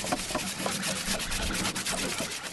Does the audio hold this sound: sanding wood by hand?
yes